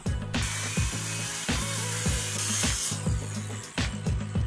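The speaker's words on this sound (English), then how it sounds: "I used my circular saw and a straight edge to trim all of my edges square" A circular saw running along a straight edge to trim Radiata pine plywood square, its steady whine broken by repeated loud bursts as the blade bites through the wood, close by.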